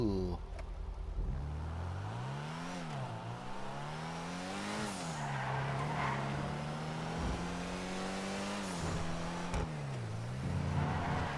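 The Ocelot Ardent sports car from a Rockstar video game is driven hard, its engine revving and dropping through repeated gear shifts while tires squeal. The roar stays loud and close throughout.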